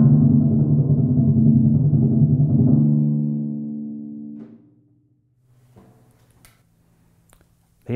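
A snare drum roll, a dense steady buzz of strokes sustained loud for several seconds and then fading away, followed by a few faint scattered taps near the end.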